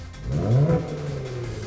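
A Kia Stinger 3.3 turbo with an electronic variable exhaust muffler revs briefly. The deep, throaty exhaust note swells to a peak and then settles back to a steady, fairly close rumble.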